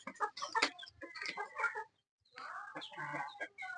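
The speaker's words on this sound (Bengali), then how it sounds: "দেখো মুরগি খাচ্ছে কত সুন্দর।" Chickens feeding on a farm cluck close by in busy, overlapping bursts, broken by a short quiet pause before the clucking resumes.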